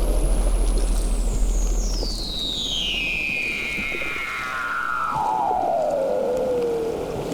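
A blue whale song: one long, gliding call that slides steadily downward from a high pitch to a low one over several seconds, clear and resonant against a soft underwater rumble.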